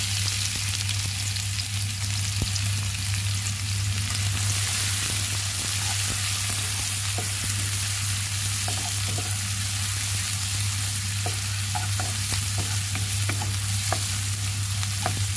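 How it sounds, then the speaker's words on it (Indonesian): Shallots and garlic stir-fried in a pan, a steady continuous sizzle with scattered clicks and scrapes of stirring, close and fairly quiet, with no voices. "Sekarang mari kita tumis. Tumis bawang merah ya"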